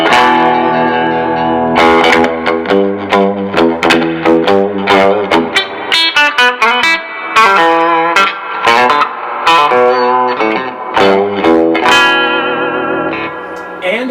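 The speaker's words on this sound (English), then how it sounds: "and the reverb is lush" A Carr Rambler tube guitar amplifier rings out with lush reverb, loud chords and single notes trailing into a wash of echo, the playing continuous and full for the whole stretch.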